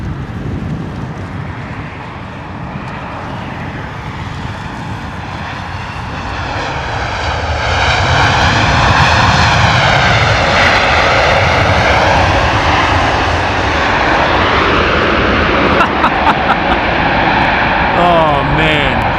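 An Air Canada airliner in icy blue livery lands at London Heathrow in wet, windy weather, its engine roar swelling loud and close with a whining pitch sweep, wind buffeting the microphone and a voice talking over it.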